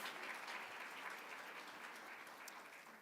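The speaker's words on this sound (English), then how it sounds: "you can do an extra little clap" Audience applause at an honors medallion ceremony, a steady, fairly faint wash of many hands clapping that holds evenly throughout with no voices over it.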